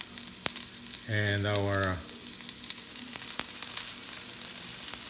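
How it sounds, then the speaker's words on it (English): Onions and garlic hitting a hot pan give a steady frying sizzle with a louder burst as they go in, while a person talks briefly over it. "Now we're gonna add our onions."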